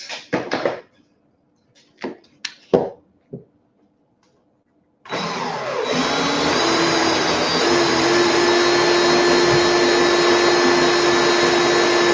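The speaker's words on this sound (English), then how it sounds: "I can put my drill on fast now." A drill spinning fast to wind wire into coils starts up after a few sharp handling knocks and clatters, then holds a loud, steady high whine close by with no talk.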